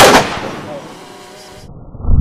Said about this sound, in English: the bullet did travel through a good 4 and did stop on the 5th